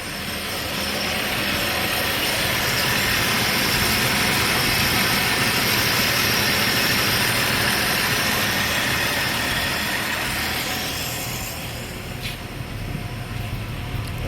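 A 1963 Chevy II engine idling loud and close, a steady low rumble with a heavy exhaust drone that holds throughout and eases slightly near the end.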